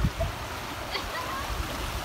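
Steady rushing water of a river at Pantabangan Dam flows throughout, a broad even wash with no talking over it.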